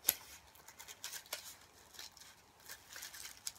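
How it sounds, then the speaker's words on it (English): Scissors cut thin strips of paper for a paper flower, a few quiet, sparse snips and rustles spaced out over a near-silent background. "we're going to take the scissors and we're just going to cut thin strips"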